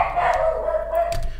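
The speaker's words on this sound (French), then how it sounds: "Vous entendez mon petit chien qui est pas content une fois de plus." A small pet dog barks and yaps in agitation indoors, a sustained, close, fairly loud whining bark with no talk over it.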